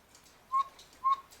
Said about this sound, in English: This here piece of wood is a reed to make the whistle sound